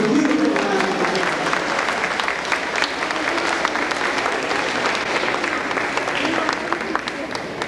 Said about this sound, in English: Let's give it a beautiful round of applause.